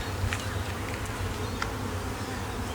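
Dense, steady buzzing of many honey bees in a weak hive during frame handling, a continuous low drone with occasional faint higher clicks and no voices.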